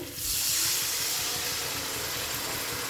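Water poured onto sautéed potatoes in a hot pan for aloo posto bursts into a loud, steady hiss of steam that holds with no talk.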